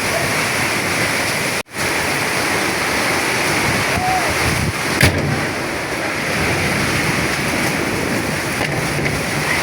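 Heavy storm rain with small hailstones pours down in Dhaka, a dense, loud, steady roar filling the whole stretch, broken by one brief dropout and a few faint knocks.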